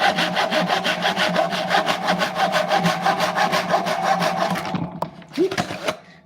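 A hand saw cuts a wood board for a box build in quick, even back-and-forth strokes, close and steady for about five seconds before stopping.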